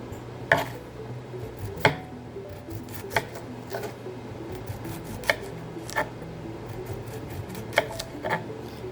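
Knife cutting cucumber on a board, sharp separate chops at an uneven pace, each a crisp close knock with quiet pauses between them.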